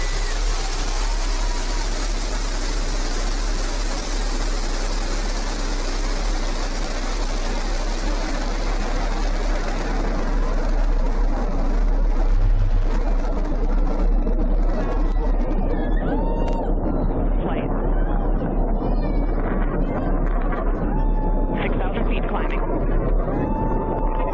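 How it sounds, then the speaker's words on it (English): A Blue Origin New Shepard rocket lifts off with a loud, sustained broadband engine roar that fills the whole clip, while a voice talks over it. "Liftoff. New Shepard has cleared the tower."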